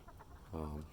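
Backyard chickens, including Easter Egger hens, give a brief low cluck inside a coop with a roosting bar, faint and close against a noisy outdoor background.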